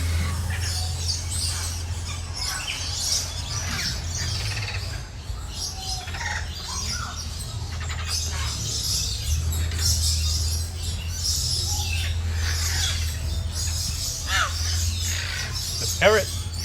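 Parrots call in short chirps and squawks scattered through a noisy safari park setting in Bangkok during breeding season, mixed with other bird sounds over a steady low hum, while a person talks nearby.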